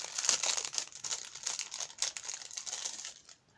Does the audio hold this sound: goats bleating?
no